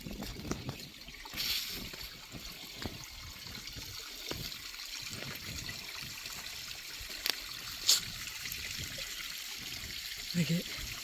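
Water trickles down a small waterfall after rain, a steady wet wash running throughout with brief splashes and handling noises; a person can be heard nearby.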